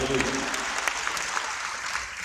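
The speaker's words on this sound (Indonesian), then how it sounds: "Tepuk tangan yang kita lakukan." A congregation applauding during a pre-Christmas and fifth anniversary service at GBI Marina Plaza in Manado: continuous, dense clapping from many hands, steady and fairly loud, with a voice faintly audible at the very start.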